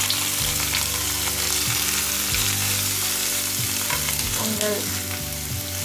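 Square-cut cucumber fries with ginger paste in a hot pan, sizzling steadily and close, with stirring scrapes and a brief spoken word.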